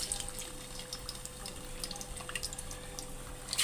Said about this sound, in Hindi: ऑयल हमारा गरम हो गया है। अब इसमें चिकन हम डालेंगे।